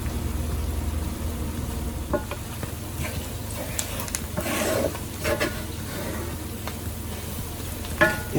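Onion gravy browning in a skillet over turned-down heat for smothered steak, giving a steady low sizzle and bubbling with occasional stirring scrapes and clinks throughout.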